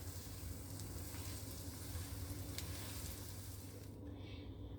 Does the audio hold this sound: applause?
no